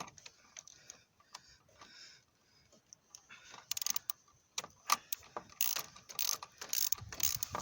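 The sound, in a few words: screwing in an engine mount bolt on a Renault Laguna 3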